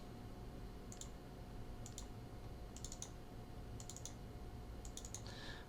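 A computer mouse gives quick double clicks about once a second, five soft paired ticks over a low steady room hum.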